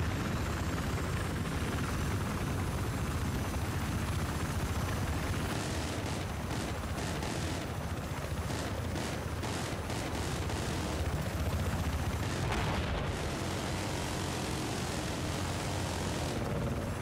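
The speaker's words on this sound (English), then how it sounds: "did the enemy steal our attack chopper?" An attack helicopter in the Battlefield 4 video game, flying over the Siege of Shanghai map during a Conquest match, gives a steady, loud rotor and engine roar that fills the whole stretch without pause.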